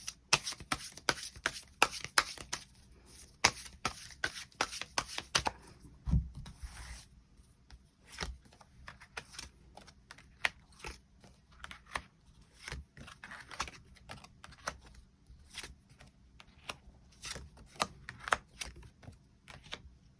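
Tarot cards being shuffled and drawn by hand, a dense run of quick papery flicks and snaps that thins out into scattered taps and slides, close and fairly quiet with no talk.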